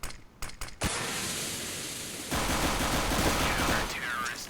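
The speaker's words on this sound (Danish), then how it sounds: "Bare lige et skud." Gunfire in the Counter-Strike: Global Offensive competitive match, a sharp burst of shots followed by sustained loud firing that jumps louder midway and stays dense to the end, with no talk over it.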